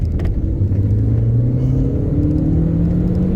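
Audi TT Mk1 turbo engine accelerating on a 60 mph back road, a steady close in-cabin rumble with rising engine tones, continuous and loud with no talk.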